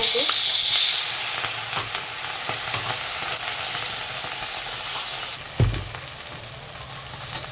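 Green chili thecha with cumin sizzling loudly in a hot pan, a continuous close frying hiss with occasional stirring scrapes and a soft thump near the end.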